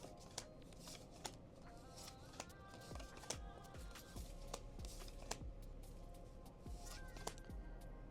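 1988 Topps baseball cards flipped through one after another, giving soft close ticks and rustles at an irregular but steady pace, fairly quiet with no talking.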